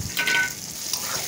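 Onion, chopped tomato and green chillies frying in hot oil for a Bengali chicken kosha, giving a steady broadband sizzle with a brief brighter hiss early on and light stirring scrapes throughout.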